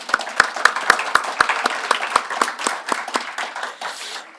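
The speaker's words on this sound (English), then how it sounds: "I'd like all of us to applaud" Applause from the audience at a women political leaders' summit in Athens, opening with several sharp, separate rhythmic claps up close that melt into looser, fading clapping from the room.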